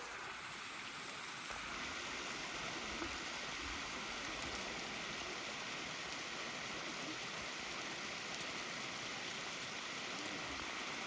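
Snowmelt water rushing down a mountain stream, a steady broadband roar that stays close and constant throughout, with no voices.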